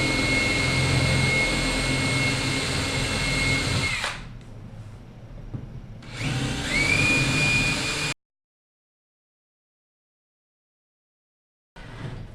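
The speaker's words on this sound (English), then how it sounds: "Now we're going to go ahead and use this 1/4 inch bit in reverse to give a little space for the heads to sit inside the plastic case." A power drill with a 1/4 inch bit runs in reverse, countersinking holes in a plastic case. A loud steady whine winds down, pauses, then spins up again before stopping. A brief burst of drilling returns near the end.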